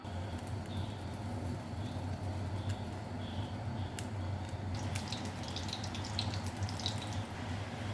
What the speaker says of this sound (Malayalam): ചൂടായ എണ്ണയിലേക്ക് നമ്മൾ ഓരോന്നായി ഇട്ട് കൊടുക്കുന്നുണ്ട്